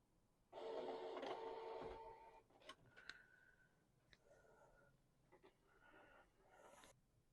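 A Canon TS702a inkjet printer whirs into motion as it starts up with a burst of mechanical noise, then gives softer clicks, short motor whines and ticks as it settles, quiet and close.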